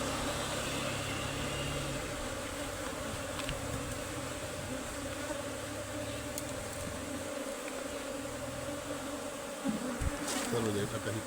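A dense swarm of honeybees drones steadily and close by while being moved into a box, with a few faint knocks and rustles near the end and no talking.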